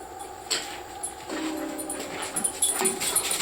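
A dog in a blacksmith's workshop with a power hammer whimpers in thin, high, drawn-out whines, several soft cries over a steady background hum, fairly close but not loud.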